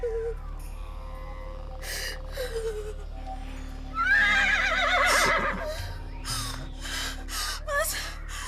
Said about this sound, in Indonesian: kuda itu datang